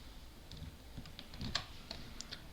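Soft, quick computer keyboard keystrokes come in a loose, uneven run as someone enters a short command while speeding up a PC. The clicks are faint and alone.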